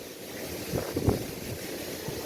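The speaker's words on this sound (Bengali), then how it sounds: "প্রচন্ড বাতাস খুব ভালো লাগছে" Strong wind blows outdoors and buffets the microphone as a low, rumbling rush, with a couple of stronger gusts swelling near the middle before settling back to a fainter, steady blow.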